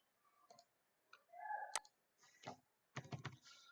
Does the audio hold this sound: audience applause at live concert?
no